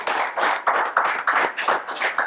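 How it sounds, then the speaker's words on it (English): A small group on a podcast set claps for the crew, with broad rhythmic claps about every third of a second, close and fairly loud, with no talking. "Give yourselves a round of applause"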